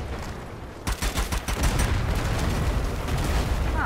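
Strange Brigade gunfire with exploding barrels: after a brief quiet start, a loud, close barrage of rapid shots and booming blasts runs continuously to the end.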